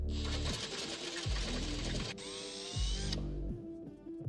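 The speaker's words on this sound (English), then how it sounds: "So now that's drilled out to size" A step drill bit bores a hole in the body of a 5th-generation RAM 3500 Cummins truck, a whirring drill running in short repeated bursts with pitch shifts between passes, close and fairly loud.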